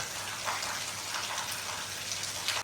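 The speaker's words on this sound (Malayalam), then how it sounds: "നല്ല മഴയാണ്." Heavy rain pouring down in a steady, dense hiss, with occasional louder splashes of drops close by.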